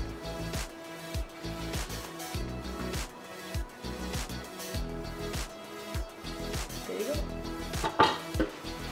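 A knife chops through taco ingredients on a cutting board, a steady run of close, sharp knocks with a few louder strikes, over a continuous background hum.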